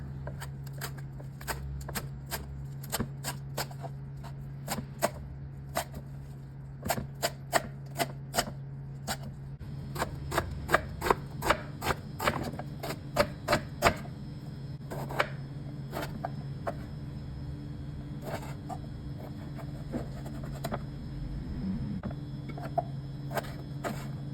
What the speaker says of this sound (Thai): เสร็จแล้วเราก็มาหั่นพวก ผักที่เป็นเครื่องยำต่างๆ